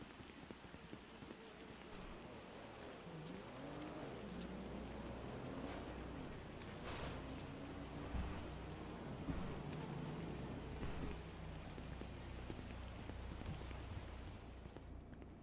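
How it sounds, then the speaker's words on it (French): Rain falls steadily outdoors in a city setting as a faint, even hiss of drops with a low background rumble, continuous and fairly distant throughout. "Oh, il pleut."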